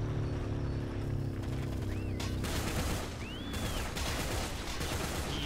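Rapid gunfire in the World War II shooter Heroes & Generals, dense crackling shots layered over a low rumbling engine-like drone, with a couple of brief whistling sweeps, continuous and fairly loud.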